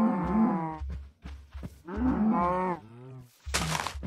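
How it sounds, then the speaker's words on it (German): Cow in the video game Minecraft, Life in the Woods modpack, letting out several loud, close moos in quick succession, with short pauses between calls and no speech. "Danke, liebe Kuh."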